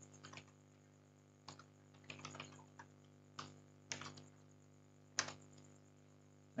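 Keys clatter on a computer keyboard at a Linux Ubuntu 20.04 terminal: scattered single taps and short bursts of typing, close and crisp, over a quiet steady hum with no talking.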